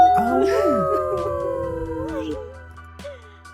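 Several people imitate wolves, their overlapping rising and falling howls sounding loud and close before trailing off into quieter background noise.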